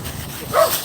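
A dog gives a short bark with a whimpering edge, a single brief close-up burst over a low background murmur.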